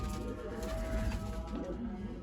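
Pigeons cooing in a loft, a soft continuous murmur of low coos close by, with faint bird calls mixed in and no talking.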